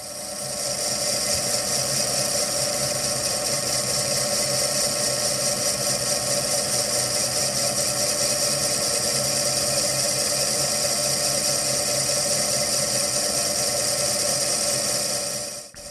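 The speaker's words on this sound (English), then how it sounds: "I use an RCMT 10mm button insert to round the corner and face the flange." Metal lathe turning a flange with an RCMT 10mm button insert, rounding the corner and facing: a steady, loud continuous whine with tonal machine hum, unbroken for the whole stretch and with no talk.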